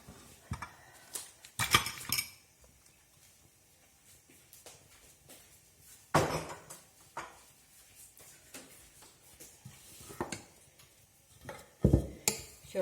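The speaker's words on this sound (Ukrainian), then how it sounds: "І тепер тут все буду перемішувати." Dough mixture for a Ukrainian layered pastry being stirred in a bowl, giving scattered scraping knocks and clinks of a utensil against the side, some louder bursts among quieter gaps.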